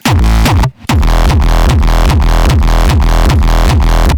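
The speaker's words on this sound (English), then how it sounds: "the bass line was built like this." Loud, punchy synth bass from a Serum preset pulsing in a steady driving hard techno rhythm, with a brief dropout near the start before the pattern resumes.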